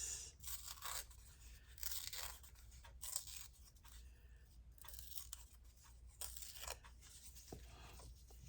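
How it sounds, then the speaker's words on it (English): Paper being torn in several short rips during a glue-and-paper craft session, bursts of crisp tearing separated by pauses, fairly faint and close with no talking. "I think I need to tear this."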